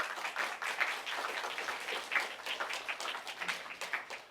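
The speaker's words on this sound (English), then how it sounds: "So just a round of applause for all of them" An audience at a panel evening applauds presenters; a soft, steady patter of many hands claps continuously at a moderate distance, fairly quiet and without any voices.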